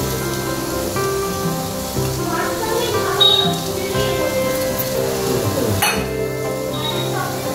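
Milk, kewra water and rose water poured over biryani rice in a pot: a soft, spattering splash of liquid on rice, close by, with a faint tonal background running underneath.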